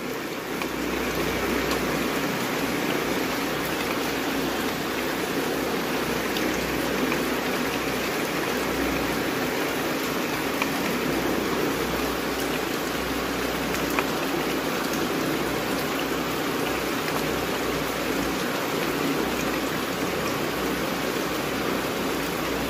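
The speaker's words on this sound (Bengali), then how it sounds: "ভালোই বৃষ্টি হচ্ছে" Heavy monsoon rain pours down steadily in a dense, unbroken hiss that fills the whole stretch, with no voices heard.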